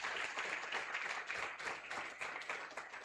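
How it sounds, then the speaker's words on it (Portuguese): Church congregation applauding during a morning worship service, a sustained, fairly soft patter of many hands clapping with a slightly uneven rhythm. "Você pode aplaudir o Senhor Jesus nessa manhã?"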